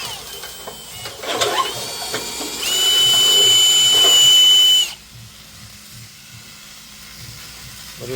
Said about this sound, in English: Jake's going to go ahead and drill out the inner and outer portion of these two lower holes